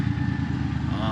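A motorbike engine runs ahead on a road in Argentina amid a large road protest, giving a steady, close low rumble through the whole moment with faint voices mixed in.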